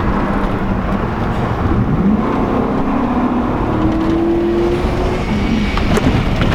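A Hummer H2 roars around a race track at speed, its engine a steady loud drone with rising and falling pitch as it pulls through the lap, heard alone without voices.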